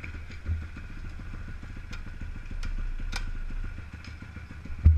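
Small pocket bike engine ticking over at idle, a rapid even putter with a clattery edge, close by, swelling slightly midway and ending with a brief thump.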